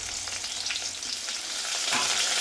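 Sliced onions drop into hot oil already crackling with fennel seeds, cardamom, cinnamon and clove for a quail fry, giving a steady close sizzle that swells louder toward the end; no voices.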